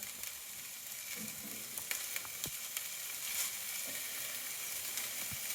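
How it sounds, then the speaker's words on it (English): Beef mince sizzling in a pan with golden-browned onions, a steady moderate crackling hiss with scattered sharp spits and pops, no voices. "So I'm going to add my mince. Just add that into the pan."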